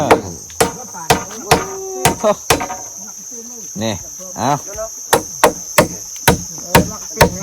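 Sharp, regular hammer blows strike wood as floor planks are fastened onto a bridge, ringing out one after another under a steady high insect drone, with brief speech in the middle.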